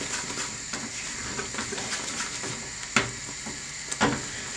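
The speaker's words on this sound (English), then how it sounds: "Keep stirring it." A thickening vegan peanut fudge mixture is stirred in a pot, a soft continuous sizzle and scraping with occasional sharper clinks of the spoon against the pan, close and steady.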